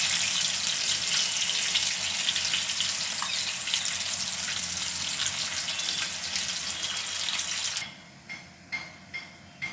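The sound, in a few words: cheese pakoda frying in a hot kadhai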